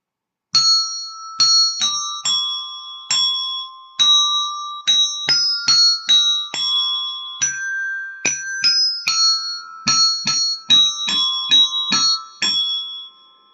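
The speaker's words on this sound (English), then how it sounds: "I'm going to play a couple little pieces on these bells so you can hear how they sound." Desk bells ring out the tune "Go Tell Aunt Rhody," one clear struck tone after another at a steady, moderate pace, close and bright with each note ringing briefly.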